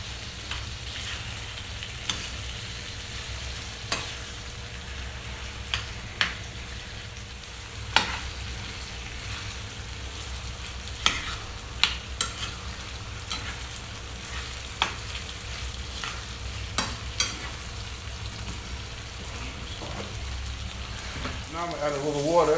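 Turkey and potato goulash sizzles steadily in a pan. A spoon or spatula scrapes and stirs it now and then, sending sharp clicks and knocks over the constant frying hiss, which grows busier near the end.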